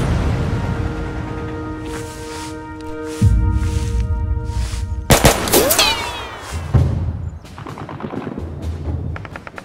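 In the video game Mud and Blood, gunfire crackles in sharp bursts over a droning tone, then heavy thuds and a loud blast, with rattling shots continuing close and loud.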